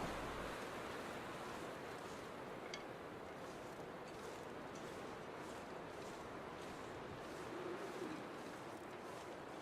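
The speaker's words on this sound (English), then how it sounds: "the wind is pretty damn bad." Strong wind in the survival game The Long Dark, a steady, dense roar of gusting air that fills the whole stretch without pause and without any talking.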